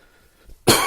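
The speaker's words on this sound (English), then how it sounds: "There's that cough coming in." A single sharp, loud cough bursts out after a near-silent pause, close to the listener.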